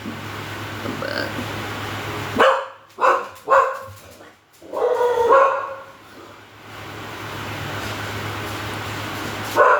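Dogs barking indoors at a home, a few loud close barks in a quick cluster followed by a longer bark and a final short bark near the end, with a steady background hum between.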